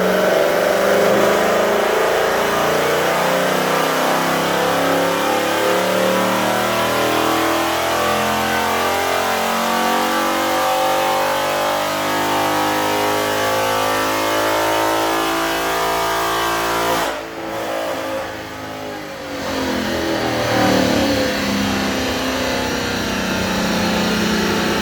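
A 2019 Ford Mustang GT PP1 V8 revs hard on a dyno inside a garage, a loud sustained engine roar climbing steadily in pitch, then briefly dropping off before roaring again.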